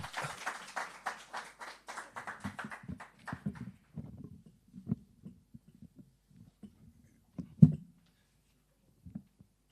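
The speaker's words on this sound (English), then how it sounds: "Please give him a warm round of applause as he makes his way to the lectern" An audience at a poetry and song competition awards ceremony gives a round of applause as a poet walks to the lectern, starting as moderate clapping and quickly thinning to scattered, faint claps with a few isolated louder ones.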